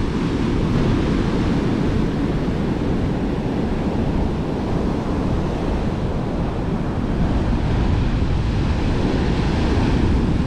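Heavy Gulf of Mexico surf at Orange Beach, Alabama, ahead of Hurricane Sally crashes continuously under strong gusting wind, a dense roar of breaking waves with wind buffeting the microphone throughout.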